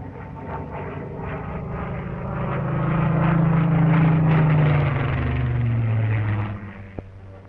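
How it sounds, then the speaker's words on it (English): A Supermarine Spitfire fighter aircraft flies past, its engine drone rising to a loud, sustained roar overhead and then fading, heard alone on an old 1940s recording. "the average Britisher knew and welcomed the Spitfire sound."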